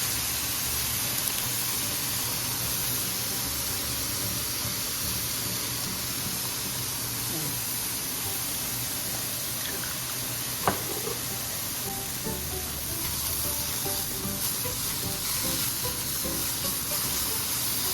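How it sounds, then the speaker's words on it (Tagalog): Pork fried rice stir-fried in a wok with soy and oyster sauce, a steady loud sizzle and frying hiss with scraping stirs throughout and one sharp clank near the middle. "Buhusan na natin ng soy sauce. At saka ng oyster sauce."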